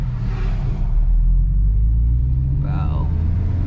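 A 5th-generation Chevrolet Camaro SS in track mode rumbles steadily with low engine drone as the wheels slip, while voices talk over the constant mechanical roar from inside the car.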